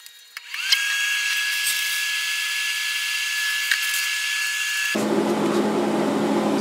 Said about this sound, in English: I like to also mill under that, so I'm going to flip that on now.